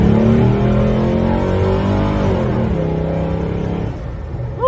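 A 1967 Chevrolet Chevelle SS with an LS swap engine revving and pulling away, a loud close rumble whose tone rises and falls before easing off.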